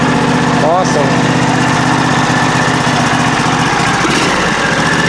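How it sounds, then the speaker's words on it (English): A John Deere SST18 lawn tractor engine runs steadily after a cold start, a loud, close, constant mechanical drone with no breaks. "the engine just cranked right over"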